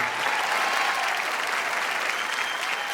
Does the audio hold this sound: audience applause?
yes